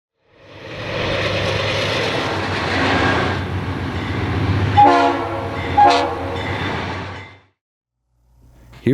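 Diesel locomotives, Santa Fe B40-8W units in Galesburg, Illinois, rumbling loudly at close range, with two short horn blasts near the end before the sound cuts off.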